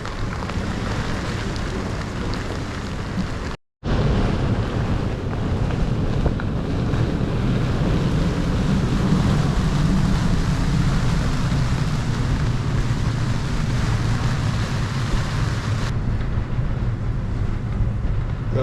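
Strong wind of over 30 knots roars steadily across the microphone on a Lagoon 43 catamaran at anchor, with a dense, unbroken rush and a brief dropout partway through, and no voices.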